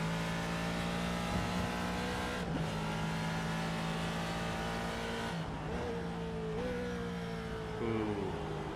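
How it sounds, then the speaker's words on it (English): Historic Ford race car at Sebring, engine revving hard and shifting up through the gears from inside the cockpit, a loud, steady, buzzing drone with brief dips at each gear change, no talking. "listen to this Ford"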